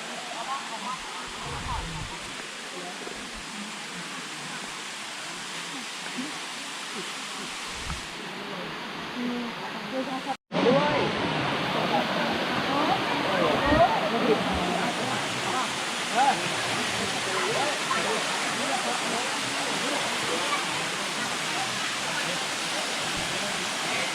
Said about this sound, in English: Inside the waterfall.